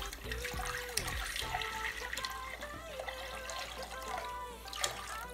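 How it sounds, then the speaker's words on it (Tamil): Water running and splashing into a cooking pot for boiling pasta, a continuous pouring trickle with some clanks, without speech. "அதில் இப்போ தண்ணியை விட்டுட்டு"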